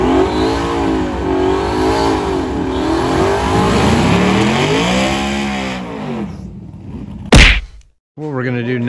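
A twin-turbo Mustang GT350R engine on its first start roars loudly with rising and falling revs for several seconds, then cuts off abruptly after a sharp bang before idling back up.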